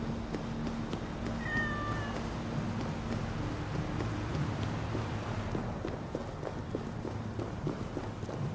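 A cat meows in Assassin's Creed Valhalla, a short high, thin call over a busy game backdrop of steady ambience and rhythmic clopping footsteps.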